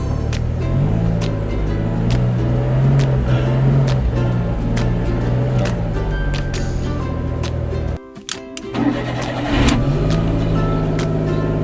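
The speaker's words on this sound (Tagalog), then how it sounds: "ayan na siya guys maandar na yung ating makina" A car engine idles steadily after a simple troubleshooting fix, a loud, continuous close-up rumble that cuts out briefly near the end and then resumes running.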